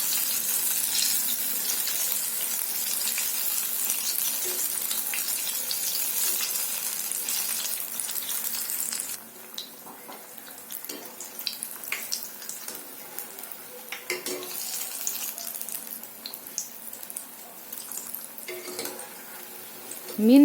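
Fish bajji deep-frying in bubbling oil, a dense, steady hiss for the first half that thins into sparser crackling and popping bubbles later, heard up close without talk.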